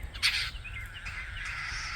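Harsh cawing bird calls, a loud cry followed by a drawn-out rasping call, fairly close in open air.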